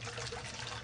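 Warm tap water runs into a brine shrimp hatching container as a faint, steady pour and trickle, continuous and unbroken.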